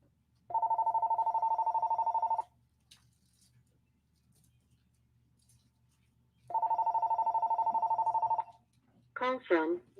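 An indoor telephone rings with an incoming call in two long trilling bursts separated by a few seconds of near silence, loud and close, followed by a brief sound at the end.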